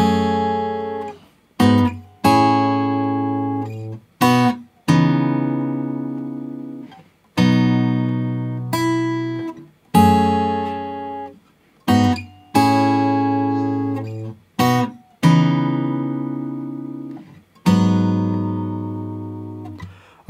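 Guitar in standard tuning plays a synth-like intro from a song, a sequence of sustained chord strums, roughly ten separate ringing chords each decaying before the next, close and clear, no talking.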